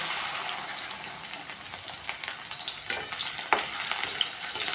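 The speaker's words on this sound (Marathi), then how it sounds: "कडकडीत तेल गरम करून घ्या आणि नंतर ह्यामध्ये थोडे थोडे टाकून भेंडी आपण तळून घेणार आहे" Okra pieces frying in very hot oil in a kadai over a medium flame, with a steady dense sizzle that crackles harder and brighter in bursts near the end.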